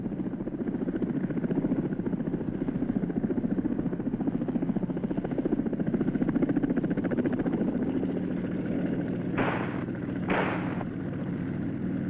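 Continuous rotor drone of a US Army helicopter in flight over South Vietnam, steady and fairly close, with two brief sharp bursts near the end.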